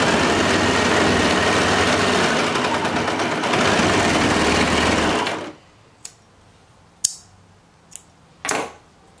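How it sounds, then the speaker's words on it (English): A sewing machine stitches boy shorts in a loud, fast, steady whir for about five seconds, then stops, leaving a few soft clicks and handling sounds. "I'm gonna go ahead and stitch right along this area."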